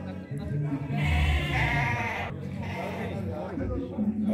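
At a goat and sheep market in Igaci, Alagoas, Brazil, sheep bleat loudly and repeatedly nearby amid the crowd, with people talking throughout.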